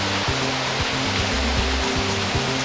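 Water from a waterfall pours down in a loud, steady, unbroken roar that fills the whole clip, with low tones sounding softly beneath it.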